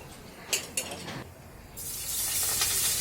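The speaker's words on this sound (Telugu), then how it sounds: "బండిలో ఆయిల్ పెట్టేసుకొని హీట్ అయిన తర్వాత వేసేసాను." Meal maker soya chunk pakodi drop into hot oil in a pan, with a couple of soft clinks, then a steady loud hiss of frying that rises and holds.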